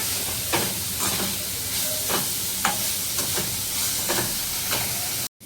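Cluster beans stir-fried with chillies on high gas, giving a steady loud sizzle and hiss with periodic scraping stirs, close and continuous, with no talking.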